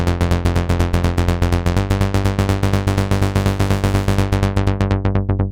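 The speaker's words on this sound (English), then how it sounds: "shuffle is a rolling bass line with a bit of swing." Shuffle, a rolling swung bass line loop from the CamelPhat pack, pulses in fast, evenly repeating notes, loud and dense, with a slight shift in pitch partway through before the final notes thin out.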